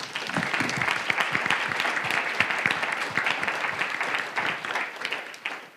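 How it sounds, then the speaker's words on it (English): Audience applause fills the hall at the close of an event, a dense, steady patter of many hands clapping together, holding at a loud level for several seconds before starting to thin out at the end. "Now I would like you to give a big applause to each and every one of us."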